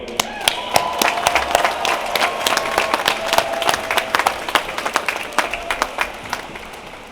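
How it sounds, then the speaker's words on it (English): Graduation crowd at the University of Virginia Class of 2022 final exercises clapping steadily, a dense patter of many hands with sharp individual claps standing out, some faint voices underneath. "Let's applaud them again."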